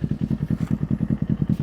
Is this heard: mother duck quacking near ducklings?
no